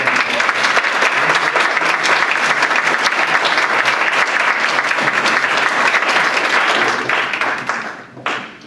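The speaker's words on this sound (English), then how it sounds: "Let's give them one more round of applause." Loud, dense applause from an audience at a women of distinction event, steady and sustained for about seven seconds before tapering off quickly at the end.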